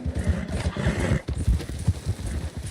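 A horse in the Red Dead Redemption 2 video game clops along with quick rhythmic hoofbeats close by, joined by a brief whinny.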